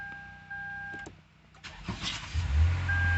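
A 2010 Lexus RX350 starts up from inside the cabin, with soft electronic chimes, a brief starter crank and the engine catching into a low, steady idle. No one speaks.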